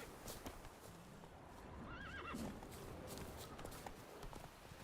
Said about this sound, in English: Oh, wild horses.